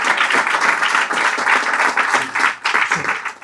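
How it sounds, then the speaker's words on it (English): Listeners at a devotional talk clap together for a child who recited a prayer, a close, even burst of applause that dips briefly near the end and then picks up again. "Big round of applause for him."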